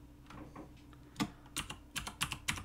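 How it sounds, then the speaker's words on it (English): Keys clatter on a computer keyboard in bursts of quick clicks, sparse at first and then a denser run of sharp taps, heard close with no talking. "we type out a link element like this"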